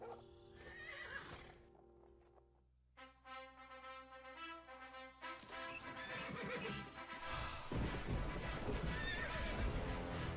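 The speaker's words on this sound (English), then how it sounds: "The final horse for this year's hits team is Thunder" A horse in a beer commercial gives a loud, clear whinny, followed by hoof clip-clops and a rising, dense wash of sound, with no talking.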